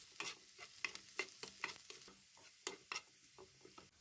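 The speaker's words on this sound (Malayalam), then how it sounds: "ഇനിയിപ്പോൾ കുറച്ച് ഇഞ്ചിയും വെളുത്തുള്ളിയും കൂടി നമ്മൾ ചെറുതായിട്ട് അരിഞ്ഞതാണ്. അത് നമുക്കൊന്ന് പതുക്കെ വഴറ്റിയെടുക്കണം." Finely chopped ginger and garlic sautéed slowly in a pan for a Kerala-style prawn roast; quiet sizzling runs under a series of irregular scraping stirs of a spatula, close and soft, with no talking.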